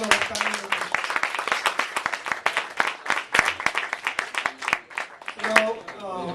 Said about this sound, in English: Please give a big applause to all of the panel members.